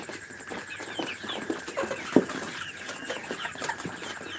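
A flock of tiger chickens kept as parent stock on a farm clucks in scattered, overlapping calls against steady background noise.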